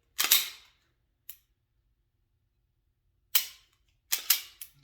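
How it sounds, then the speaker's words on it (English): Sharp handgun trigger clicks during dry-fire practice, a few distinct snaps in isolation with short bright transients, two close together near the end, no talking. "squeeze the trigger or pull the trigger"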